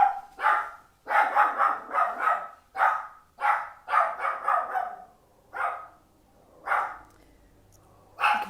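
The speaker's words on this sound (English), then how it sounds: "I'll give it a moment for my dog to stop barking." A dog barks in loud, close bursts indoors, quick clusters of two to four barks separated by short pauses, tapering to single barks toward the end.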